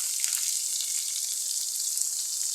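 Garlic sizzles steadily in a hot pan for a dried fish curry, a continuous bright crackling hiss with no speech.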